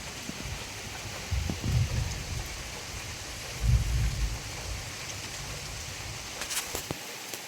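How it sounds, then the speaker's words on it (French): Light rain falling at night, a soft steady hiss with occasional drips, with two low rumbles of distant thunder rolling through and fading. "Enfin, il pleut."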